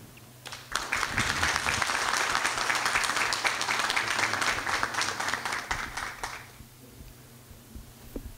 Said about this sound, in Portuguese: Vamos recebê-lo então carinhosamente, com um forte aplauso.